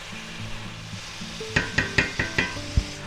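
Bok choy tossed with garlic mushrooms in a pan: a low hum first, then a run of five or six sharp scraping stirs over steady sizzling, with a heavier clank near the end.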